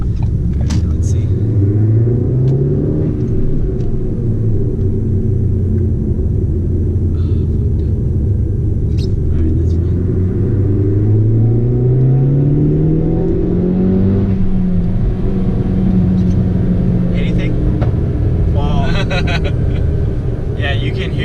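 A big-turbo Ford Focus ST revs and accelerates loudly, its engine rising and falling in pitch with exhaust pops and gurgles, while people talk over it inside the car.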